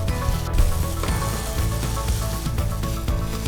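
Chicken pieces fry in a hot pan with a loud, steady sizzle and crackle, close up and continuous.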